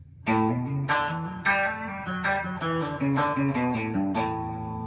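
A twangy electric guitar plays a quick chicken-pickin' country lick based on a fiddle pattern, bright plucked notes moving in a steady run with a few sharp accents, up close with no talking.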